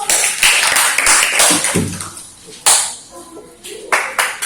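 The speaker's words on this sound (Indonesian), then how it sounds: "Kasih tepuk tangan dulu." A classroom of students claps for a presenting group, a burst of scattered, close applause that fades into a few isolated taps, with voices mixed in.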